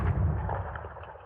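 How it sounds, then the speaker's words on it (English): Mining charge detonating on an asteroid in a space game, a sustained deep rumbling blast that is loud from the start and slowly fades over a little more than a second, with no talking. "sweet, sweet countdown for that sweet, sweet explosion"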